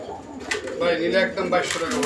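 Pigeons coo in a close, low, rolling burble at a fancy pigeon market, with someone talking over them throughout.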